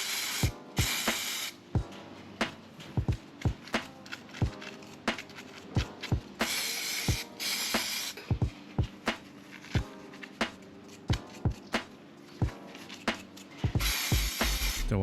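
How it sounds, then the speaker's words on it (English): Brake cleaner sprayed onto a BMW S1000RR motorcycle's front brake caliper and pins during a pad change: a few loud, hissing aerosol bursts separated by sharp clicks and taps of handled parts, with no talking. "spray a bit of brake clean as well, just to make sure everything is nice and clean from brake dust"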